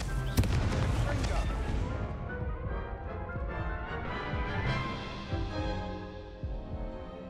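A fire spell cast in Hogwarts Legacy erupts in a loud, dense burst of crackling, booming flames that roars continuously and slowly fades over several seconds.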